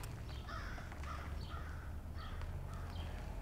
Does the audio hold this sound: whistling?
no